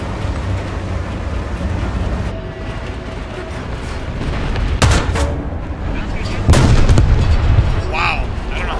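Tank cannon fire in the War Thunder video game: a couple of sharp booming shots, the first near the middle and a louder one toward the end, over a steady rumbling battle background with a voice speaking.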